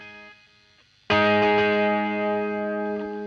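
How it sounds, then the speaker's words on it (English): An electric guitar runs through wet delay, reverb and chorus effects: quiet tones give way to a sudden loud strummed chord that rings out lush and sustained, slowly fading as the shimmering wash lingers. "I've got a couple of wet reverbs. Combine that with a bit of chorus."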